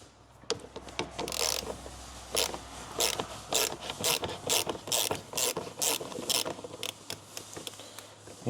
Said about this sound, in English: Remove this one and remove these clips off. Unscrew these ones.